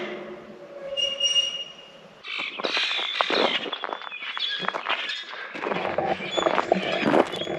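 Crows cawing and other birds calling outdoors beside a field on a mild morning, repeated harsh calls in irregular bursts at moderate distance, with a steady rumbling background throughout.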